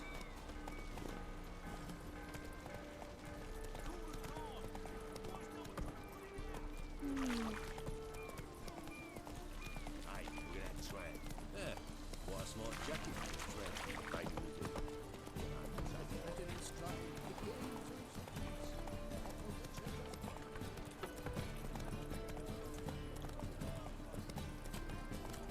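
Horse hooves clip-clop in The Witcher 3: Wild Hunt, a steady trotting rhythm mixed with game music and ambience, with someone talking over it.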